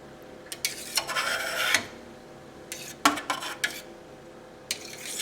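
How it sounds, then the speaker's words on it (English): A knife cutting through cheese curd in a saucepan, scraping and tapping against the pan's bottom in uneven strokes and clicks, close and moderately loud, with quiet gaps in between. "I'm hitting the bottom of the saucepan quite deliberately because that curd goes most of the way down"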